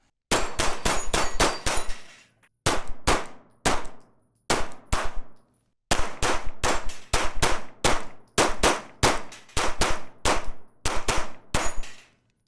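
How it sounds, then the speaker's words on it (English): Glock Gen 6 pistols fired at an outdoor range with Fiocchi 124-grain ammunition: loud, sharp reports in rapid strings of several shots each, separated by short pauses, with no talking. "We'll give this a little bit of a run, see how this actually shoots."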